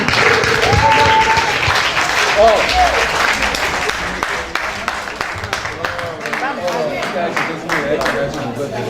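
Audience applause at an installation ceremony for an Italian representation, broad steady clapping filling the whole span at close range, with voices and crowd noise mixed in underneath.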